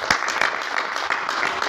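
Crowd at a community birth-anniversary gathering clapping to welcome guests, a brief dense patter of applause at moderate distance.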